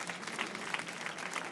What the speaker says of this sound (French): vous pouvez l'applaudir parce que c'est assez spectaculaire